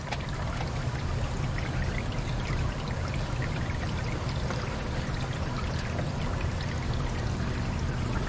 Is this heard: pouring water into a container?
yes